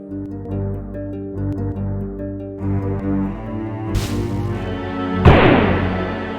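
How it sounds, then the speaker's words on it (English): A trapped massive iron safe blows up in the video game Quest for Glory 4, with a sudden loud explosive burst late in the clip, preceded by a smaller crack, over a steady game music background. "You got the chest open but set off an explosion in the process."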